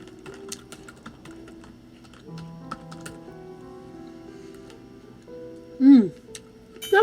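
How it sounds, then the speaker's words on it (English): Quick bursts of computer keyboard typing, light clicking keystrokes close by, with a brief spoken remark and a louder noise near the end. "You know what my typing's like."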